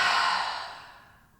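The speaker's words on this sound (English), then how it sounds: "Take a nice deep inhale in through the nose, and exhale through the mouth." A single long, deep breath pushed out through the mouth at the end of a hip and hamstring stretching session, close and breathy, fading gradually to quiet.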